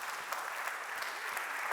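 Applause from the audience at an EIC Roadshow afternoon session in Milan, thanking Commission officers. Continuous, even clapping from a crowd, quiet and somewhat distant, with no speech over it.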